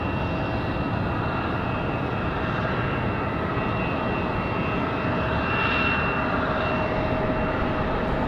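A jet airliner, a 757, departs Raleigh-Durham airport on a windy day with a continuous loud engine roar and a faint whine, swelling slightly near the end, with no voices.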